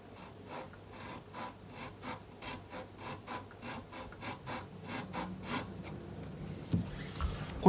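Rhythmic back-and-forth rasping of a file shaping a guitar nut during a nut replacement, about a dozen even strokes close up, with a brief louder clatter at the end.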